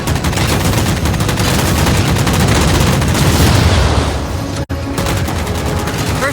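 Rapid sustained gunfire from Halo 4 as jammers are shot down, dense continuous bursts with booming impacts, loud and close, broken by a brief cut before the firing resumes.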